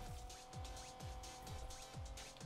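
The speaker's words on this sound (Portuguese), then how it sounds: "a driftadazinha só pra esquentar o pneu" A car drifting on a wet track in Need for Speed Unbound, with the engine note dropping in quick, evenly spaced pulses about twice a second under a steady hiss, fairly quiet and with no voices.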